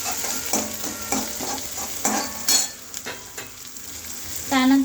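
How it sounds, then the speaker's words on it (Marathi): Onions and poha ingredients stir-fried in hot oil, a loud close sizzle with rhythmic scraping strokes of a spoon against the pan, repeated about once per second. "त्याला चमच्याने परतून घेणार आहे।"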